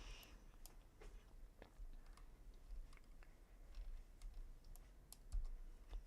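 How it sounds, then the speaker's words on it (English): Rapid computer mouse clicks, light and close, scattered in uneven bursts over a low background rumble, with no talking. "Mouse ASMR."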